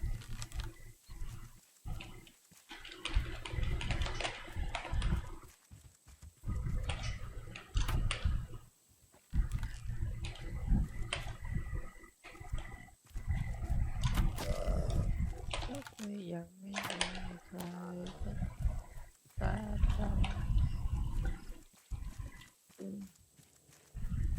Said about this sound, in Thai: สียงหมีนี่เหมือนเสียงคนคนไหนอ่ะ